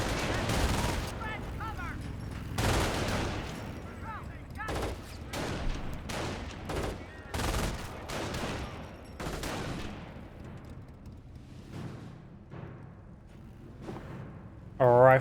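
MG42 machine gun fire in Company of Heroes 1, bursts of rapid gunfire and scattered rifle shots in a busy battle mix, with someone commentating over much of it.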